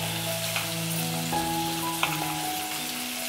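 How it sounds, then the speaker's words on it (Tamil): Tomato and onion sauté in a pan with a steady, even sizzle and a few soft stirring clicks, heard alone at a moderate level. "தக்காளி வெங்காயம் நல்லா வதங்கினதுக்கப்புறம்"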